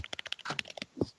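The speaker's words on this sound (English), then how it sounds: "I'm mashing the keyboard currently." Rapid, irregular clatter of someone mashing a computer keyboard, a dense burst of close key hits with a heavier thump near the end, no talking.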